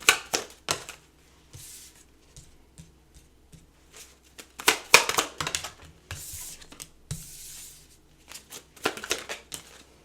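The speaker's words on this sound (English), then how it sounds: "Too many cards, so I have to reshuffle." Tarot cards are shuffled in close, intermittent bursts of rapid riffling and tapping, separated by quiet gaps, with no talk.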